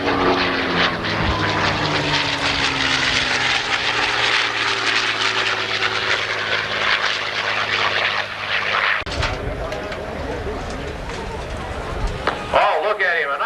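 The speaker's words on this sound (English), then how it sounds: "Pete McManus in the North American P-51 Mustang. On takeoff roll, ladies and gentlemen, from the Combat Jets Flying Museum in Houston, Texas" A North American P-51 Mustang propeller plane roars on its takeoff roll at an airshow, a loud engine drone with a falling pitch as it passes, while an announcer talks over a PA.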